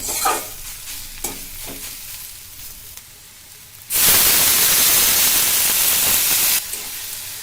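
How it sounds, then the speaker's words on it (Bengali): Frying cabbage in a pan for a Bengali cabbage ghonto with hilsa fish head, with stirring at first, then lukewarm water poured in and a loud, steady burst of hissing sizzle that lasts several seconds before easing off. "এবার আমরা এখানে সামান্য পরিমাণে পানি দিয়ে দিব"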